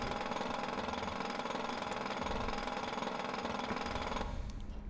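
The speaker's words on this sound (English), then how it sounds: "No, I'm drilling, boys. We're drilling." Steady loud mechanical drilling in the video game GTA V on a FiveM roleplay server, a continuous rattling grind that shifts slightly in tone near the end, with no talk.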